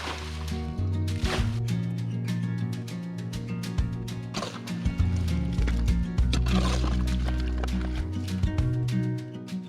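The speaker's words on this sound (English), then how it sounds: "We need to get all the water and the mud out to see where we can possibly fix the basin." Water and mud are scooped out of a damaged basin on off-grid land in Portugal. Wet squelching, sloshing and splashing come in uneven bursts, close and fairly loud, with faint background noise.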